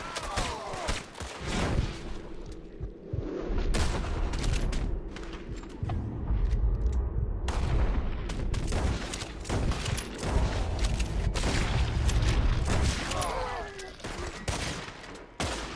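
Gunfire in Red Dead Redemption 2 during a chaotic shootout, dense volleys of shots and booms throughout with shouting voices mixed in, loud and close.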